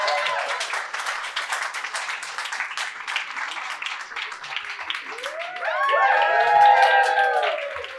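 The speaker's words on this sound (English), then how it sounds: "Keep clapping, please." Audience clapping at a live talk event, a steady patter of many hands running throughout at moderate loudness, with a voice speaking over it toward the end.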